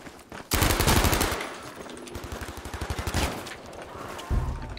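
Rapid bursts of video game shotgun fire blast loudly and repeatedly, with dense overlapping shots and a few brief pauses between volleys.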